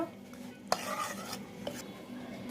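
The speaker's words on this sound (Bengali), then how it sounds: "এখন সব মশলাগুলো আমি দইয়ের সঙ্গে মিশিয়ে দিব।" Spices such as black salt, roasted cumin-garam masala powder and chili being mixed into yogurt for doi bora, heard as a faint close stir with a couple of soft clinks of spoon on bowl.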